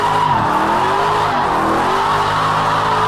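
Tires squeal loudly under a racing engine in the Project Cars 2 racing game, driving an RTR Mustang. The skid holds continuously for about three seconds, with the engine pitch dipping and then rising again, and no one talks.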